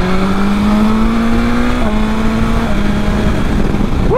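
A 2020 BMW S1000XR four-cylinder motorcycle pulls hard, its smooth engine note climbing steadily, dipping briefly at a gear change, then rising again, loud and close, with rushing wind underneath.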